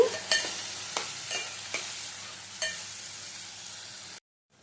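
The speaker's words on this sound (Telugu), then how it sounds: "ఇప్పుడు నానబెట్టుకుని పెసరపప్పు వేసుకుందాం, కలుపుకోండి." Soaked moong dal is stirred in a sizzling pan of tempering, with a steady fry hiss broken by several distinct scraping spoon strokes close by, then it cuts to silence.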